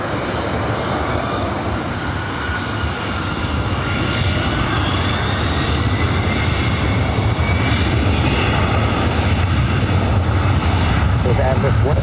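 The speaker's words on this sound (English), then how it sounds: "We have another Delta 757 heading over here for a north side takeoff." Delta Boeing 757 taking off at LAX, a loud steady jet roar that builds slightly and holds throughout, with an airport radio voice faintly audible underneath.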